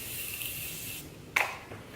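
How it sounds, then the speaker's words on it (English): Morphe setting spray misted onto a face: a soft, steady hiss that cuts off, followed by one sharp, brief spritz burst, faint and close. "I'm going to use the Morphe setting spray."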